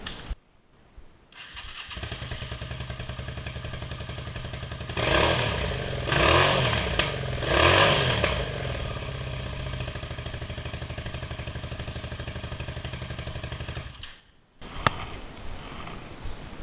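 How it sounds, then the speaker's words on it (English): Suzuki SV650 motorcycle engine cranks, catches and settles into a steady close idle with a few brief revs, then cuts out, and a sharp click follows near the end. "put my terminals straight in there and then fire the bike up again"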